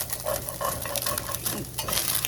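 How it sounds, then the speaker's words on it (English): Browned, crispy, lean ground beef is broken up and stirred in a frying pan, a scraping, shuffling stir over a steady sizzle, close and without talk. "break it up and stir it until it's not just browned"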